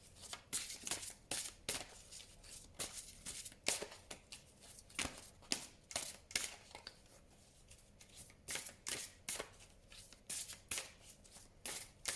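A deck of tarot cards is cut and shuffled up close, with repeated crisp riffling bursts and slaps in quick irregular succession, fairly quiet and with no voices.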